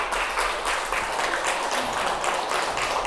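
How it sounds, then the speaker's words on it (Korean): Steady, dense applause from a seated audience at a Catholic spiritual lecture, an even wash of many hands clapping throughout with no voices over it. "우리 서로 박수치고 같이 시작하도록 하겠습니다"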